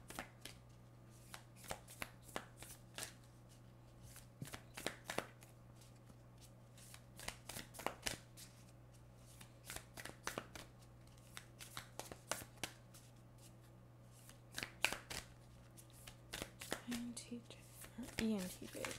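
Moonology oracle cards being shuffled by hand, a long run of crisp riffling and tapping bursts, close and fairly quiet, with a steady low hum underneath.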